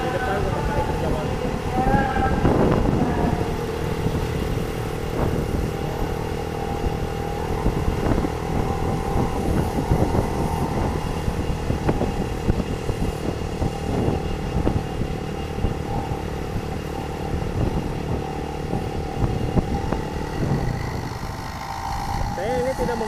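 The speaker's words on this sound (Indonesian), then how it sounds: "Jadi pasti mesin kedengeran, suasana kedengeran" Motorcycle engine drone with road and traffic ambience on a city street in front of a hospital, picked up by a GoPro Hero 3 with no external mic; steady and loud throughout, with someone talking over it.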